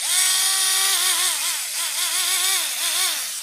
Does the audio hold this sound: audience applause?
no